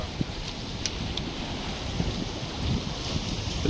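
Ocean surf washes steadily onto Arjyapalli sea beach in Ganjam, Odisha, a continuous broadband roar with wind buffeting the microphone and a few faint swells rising through the short stretch, with no voices.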